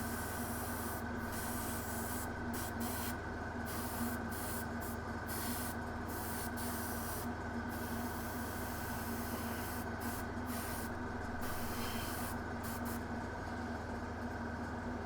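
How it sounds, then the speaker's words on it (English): Airbrush laying a general coat of paint over a Knight Armiger model, a steady unbroken hiss of spray running close and even throughout over a low background hum. "I just want to give a generalised spray."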